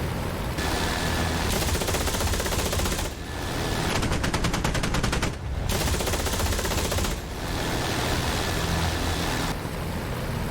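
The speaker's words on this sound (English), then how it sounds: "it is a devastating round because it's 30mm, the largest cannon on the warbirds" Sustained, rapid bursts of heavy 30mm cannon fire from a Bf 109 in the DCS World flight simulator, loud and dense, with brief pauses between long volleys over a constant roaring engine drone.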